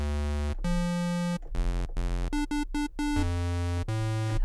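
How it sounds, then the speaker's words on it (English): A buzzy, harmonically rich saw-wave synthesizer plays a series of sustained notes at varying pitches across a few octaves, some long and some short and staccato, with no other sounds. "So first of all, a saw wave."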